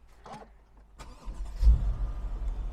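A 2012 Mercedes E550 Cabriolet engine cranks and catches after a light click, then settles into a steady low idle, close and moderately loud.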